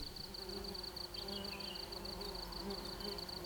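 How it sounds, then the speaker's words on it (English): A steady bee buzz fills the air on the Nilgiri slopes in southern India, with a continuous high chirring tone above a low hum, constant and moderately close. "the air is abuzz with bees"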